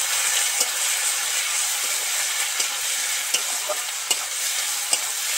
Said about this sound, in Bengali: দিয়ে 2 মিনিট ভালো করে নাড়তে থাকবো।